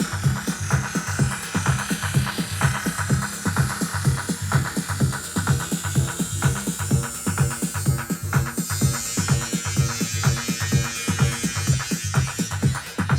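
A fast repeating electronic dance loop with thumping beats, its texture gradually swirling and building in intensity as a spiral effect from a Pioneer RMX-1000 is applied, loud and continuous.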